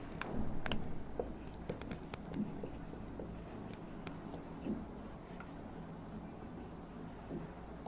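Chalk or marker writing on a board during a chemistry lecture comes through as faint scratching strokes and taps over steady room noise, quiet and close.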